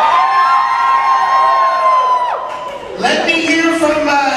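A nightclub crowd cheers and screams loudly and without a break, with high shrieks and whoops rising and falling in a dense wall of voices.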